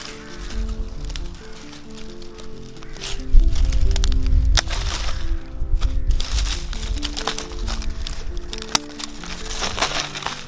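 Dead woody stems are cut from a lavender bush, with sharp snipping clicks scattered irregularly over a constant rustle and crackle of dry twigs and foliage being handled up close.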